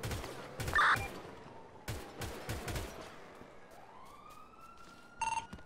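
Police car siren in the video game GTA V, a faint rising wail building in the background alongside sharp bursts of gunfire and clattering game effects.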